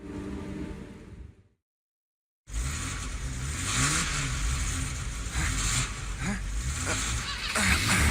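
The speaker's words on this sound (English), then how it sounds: "let's start this truck and make our escape" A truck engine in VR Chat turning over after a short silence, then revving and running steadily loud and close, the roar swelling in waves toward the end.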